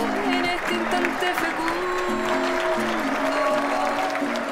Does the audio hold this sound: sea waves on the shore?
no